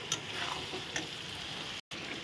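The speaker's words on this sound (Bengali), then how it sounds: "এখন আলু দিয়ে আমি সুন্দর মশলা কষিয়ে নিচ্ছি" Potatoes sauté with spices in a pan, a close dense sizzle with light stirring scrapes, briefly cut to silence near the end, no voices.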